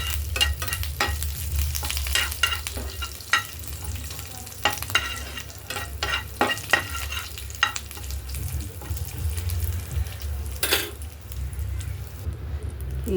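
Tempering for coconut chutney fries in a pan with chana dal, curry leaves and dried red chillies, a loud continuous sizzle broken by frequent scraping stirs, close and steady.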